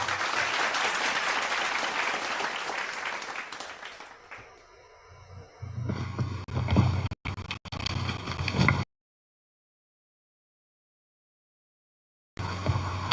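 Loud audience applause at a partners' appreciation ceremony, dense clapping that thins out midway, returns, then cuts to silence before a brief final burst.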